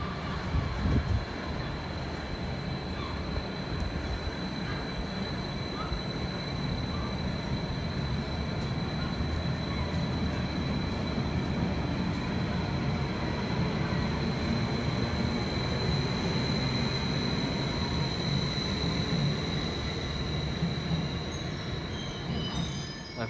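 Steady low rumble of a train and station noise on the platform at Ipswich Station, with a faint high whine above the continuous hum.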